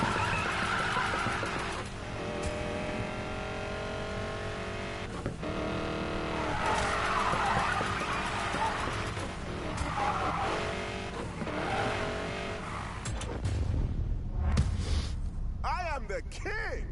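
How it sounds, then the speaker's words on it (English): A car drifts through traffic on a road in a PS4 racing game, its engine running continuously with tire squeal throughout. A voice talks over it the whole time. "I'm drifting on a road that's got traffic on it."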